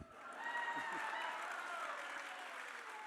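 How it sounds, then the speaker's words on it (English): Book festival audience cheering and applauding for the Cubs after a World Series mention, a steady wash of claps and cheers from a large crowd indoors, sustained and even throughout. "people cheer for the Cubs"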